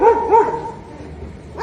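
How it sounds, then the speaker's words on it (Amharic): Dogs barking in a few short, loud bursts close by, with a brief pause before another bark at the end. "ውሾች እየጮሁ ነው።"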